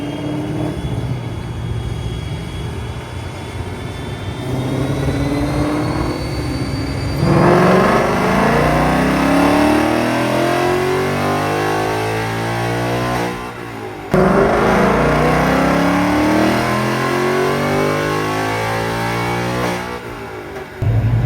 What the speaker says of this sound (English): we might see what goes on the dyno, maybe see how much power one of our cars makes